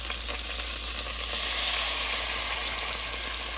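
Grated bottle gourd fries in ghee in a pot that has just browned cashews, giving a continuous bright sizzle with a soft swell as it is stirred, close and alone without talk.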